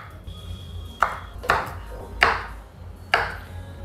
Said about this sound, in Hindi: तो जो सब्जी हम बॉईल करेंगे वो पहले काट लेंगे। इस तरीके से आपने काटना है